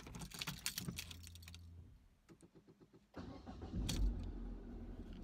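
A car engine cranking in rapid even pulses for about a second before catching and settling into a steady idle, close and clear inside the car, with no talking.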